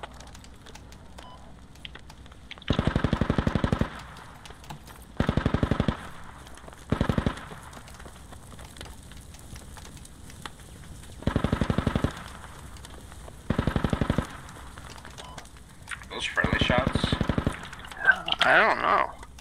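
Machine gun fire in the military shooter game Squad comes in several loud, rapid bursts of one to two seconds each, separated by pauses, with faint background game noise between them.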